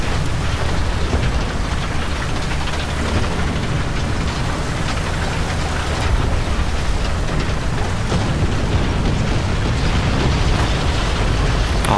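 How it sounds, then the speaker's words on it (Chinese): Bombing explosions in the combat video game War Thunder form a dense, continuous roar of rumbling blasts and crackling debris, loud and sustained for the whole stretch, with no speech over it. "他们对面也是在对 A 点发起一些轰炸"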